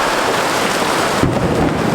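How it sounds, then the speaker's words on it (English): A heavy rainstorm over a ranch with water pouring from downspouts, a loud continuous roar of rain and rushing runoff, with a deeper surge like thunder or a gust partway through. "You can see in all of these downspouts, water's just pouring out."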